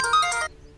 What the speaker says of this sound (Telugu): అది నా సెల్ ఫోను.